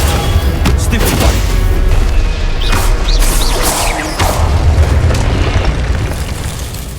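The Stupefy spell is cast in the video game Hogwarts Legacy, giving a series of loud, booming magical blasts and bursts over a constant rumbling game soundscape.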